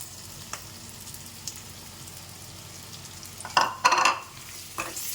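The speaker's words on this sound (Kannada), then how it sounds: "ನೆಕ್ಸ್ಟ್ ಇವಾಗ ಫ್ರೈ ಮಾಡಿಟ್ಕೊಂಡಿರೋ ಆಲೂಗಡ್ಡೆ ಹಾಕೋಣ" Fried potato pieces tipped into rice in a pan and stirred, giving a low steady sizzle with a few louder scraping, clattering stirs near the end, close by and without talk.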